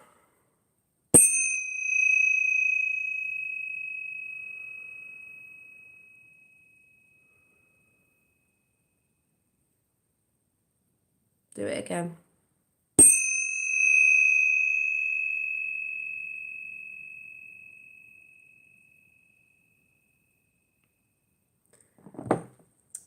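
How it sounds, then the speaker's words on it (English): A 428 hertz tuning fork is struck twice, each strike giving a clean, pure ringing tone that fades slowly into silence, with brief handling rustles between. "this tuning fork is 428 hertz, which is supposed to be healing"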